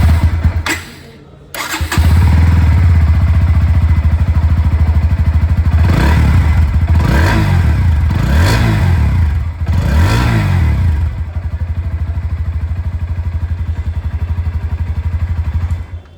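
A 160cc motorcycle with an underbelly exhaust starts up and revs several times, sharp rising and falling bursts over a steady loud idle, close by and with no talk.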